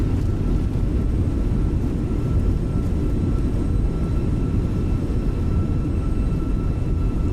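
An airliner's thrust reversers in Microsoft Flight Simulator 2020 after landing at Athens, a steady, heavy low roar that holds at constant loudness throughout with no voices.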